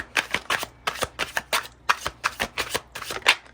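Tarot cards being shuffled make rapid riffling, slapping bursts in an uneven rhythm, close and clear with no talk.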